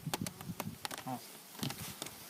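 Steady buzzing of many honeybees around a hive in cold spring weather, close and fairly quiet, with occasional louder passes and faint background voices.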